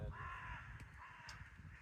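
Crows caw a couple of times from some distance outdoors, short harsh calls over faint background ambience by a fishing spot.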